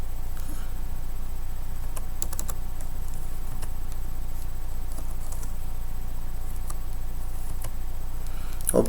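Typing on a computer keyboard while entering data into an MS Excel spreadsheet, scattered clicky keystrokes in small bursts over a constant low background hum, heard close and moderately quiet.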